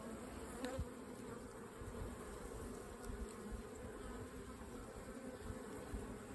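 Honeybees buzz steadily around a hive feeder during a spring hive check, a dense continuous drone from many insects close by with no talking.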